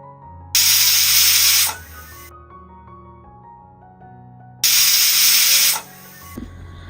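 Two loud bursts of steam hissing as pressure cooker whistles, cooking on low to medium flame, each lasting about a second, separated by a quiet pause with a low background hum.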